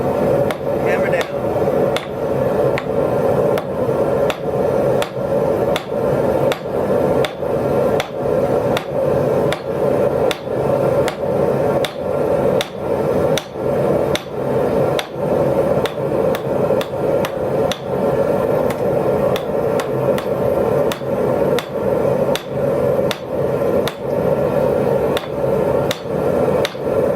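Repeated sharp hammer strikes ring out on hot metal being forged into a steak flipper, in a fast, steady rhythm, loud and close, continuing throughout with only brief pauses.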